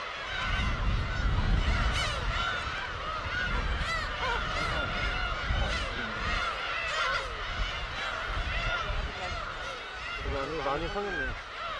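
A colony of black-tailed gulls calls at its breeding ground on Hongdo island, many overlapping harsh, mewing cries packed densely and continuously at close range against a steady background.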